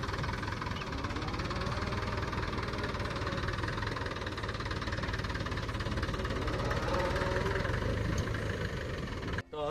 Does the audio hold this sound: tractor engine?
yes